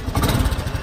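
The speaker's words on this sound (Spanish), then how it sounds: "el arranque se hace dándole al pedal, pisándolo y accionando el botón de on" A Honda Elite 250, an early maxi scooter, fires up with a low, throbbing engine burble that pulses rapidly and evenly, close to the microphone, in a very short burst with no talking.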